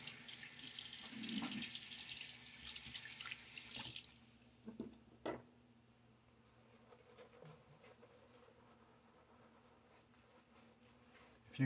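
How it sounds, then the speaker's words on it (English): Water runs steadily from a bathroom tap into a sink during a wet shave, then shuts off after about four seconds, leaving a quiet room with a few faint knocks and a low hum. "Splash of water."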